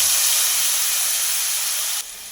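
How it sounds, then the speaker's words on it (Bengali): Spice paste hitting hot oil in a pan while cooking a Bengali pabda fish roast, giving a loud, steady broadband sizzle that hisses continuously and drops slightly in level near the end. "আমি যে মশলার মিশ্রণটা তৈরি করে রেখেছিলাম এটা এবার এর মধ্যে দিয়ে দেবো"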